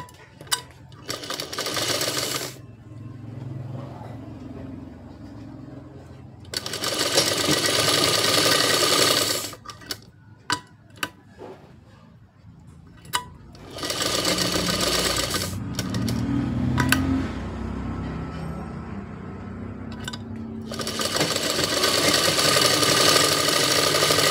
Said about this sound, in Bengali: এবার এটা আমি এইভাবে সেলাই করে দেব, 1/2 ইঞ্চি করে সেলাইটা দেব।